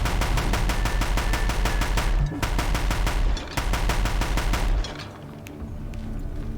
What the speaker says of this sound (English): we've got a Deathbringer gun here